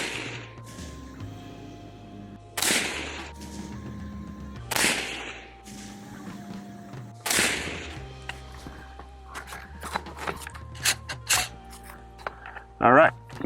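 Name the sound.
suppressed rifle shots, Aero Precision rifle, Federal M193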